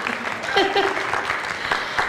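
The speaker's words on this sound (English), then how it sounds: "Give yourselves a round of applause." Theater audience of about a hundred people applauding, a brief burst of steady clapping with voices mingled in.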